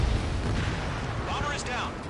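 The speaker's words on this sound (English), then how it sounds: "missile away." A missile launched in a flight combat game goes off with a heavy low whoosh and rumble, loud and close, as a radio-style voice speaks over it and a short warbling tone sounds near the end.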